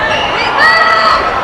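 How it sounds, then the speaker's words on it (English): Seton Catholic supporters cheering from the stands at a high school boys basketball game, a loud crowd roar with shouting and a rising swell, mixed with busy chatter. "The Seton supporters just to our left, we can hear them cheer."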